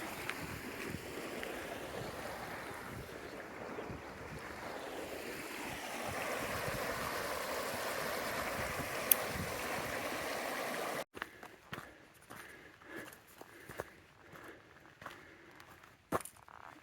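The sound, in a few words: flowing water of Paling Yard Creek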